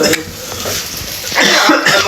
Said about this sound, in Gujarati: કેમ ઉધરસ આવવા લાગી બધાને?